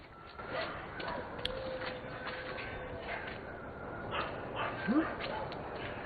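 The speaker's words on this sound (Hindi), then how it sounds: "ये जानवर इसको देख के भौंक रहे थे।" Dogs bark and yip in scattered bursts at a distance, with a brief whimpering yelp near the end, under steady background noise and ongoing talk.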